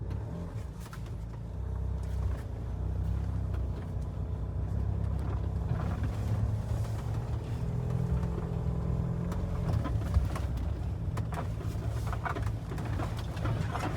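A Mahindra Thar driving off-road in 2 high, its engine and drivetrain a steady, low droning rumble with bumps and rattles scattered throughout, heard from inside the vehicle.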